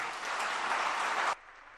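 A burst of applause from a crowd at a religious discourse in Agra, clapping steadily for over a second before cutting off abruptly.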